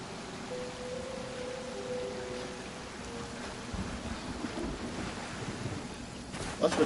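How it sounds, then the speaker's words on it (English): Rain hisses steadily under a low, rolling rumble of thunder during a storm on the open ocean in Genshin Impact, with a sharper crack near the end. "Hey, it's just a little lightning"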